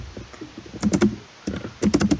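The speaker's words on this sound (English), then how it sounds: "I just hear you typing" Computer keyboard typing in two quick bursts of clattering keystrokes, loud and close, with a short pause between them.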